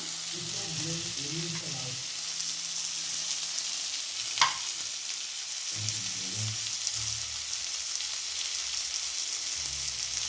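Tomato frying in a pan for flax seed chutney, a steady close sizzle throughout with a brief clatter partway through, low murmurs underneath.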